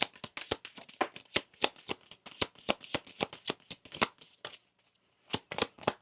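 Tarot cards riffled and shuffled by hand in a run of sharp, close, rapid flicks, briefly pausing near the end before a few more quick snaps; no talking.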